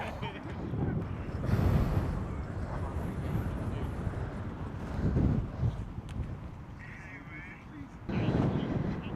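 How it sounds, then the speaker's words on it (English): Strong wind buffets the microphone in steady loud gusts on an outdoor football field during a two-hand touch game, with voices talking through it. "Damn, it's windy."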